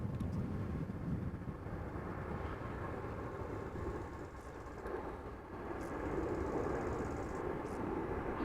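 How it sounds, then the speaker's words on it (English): A Singapore Airlines Airbus A350-900 airliner at Amsterdam Schiphol makes a distant, low engine rumble, a broad, steady roar that dips briefly in the middle and then swells again. "Singapore Airlines flight 323, A350-900, destined for Singapore"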